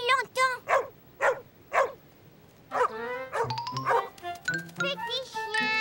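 A cartoon puppy barks in a run of about five short, loud yaps with brief gaps, then a voice talks over a lighter, higher whimpering and yipping.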